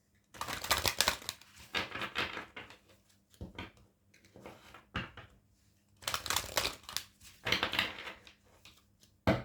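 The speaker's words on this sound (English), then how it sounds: "I'll just shuffle these cards." Oracle cards riffle and slap together in repeated bursts of papery shuffling, close by, with short pauses between each round.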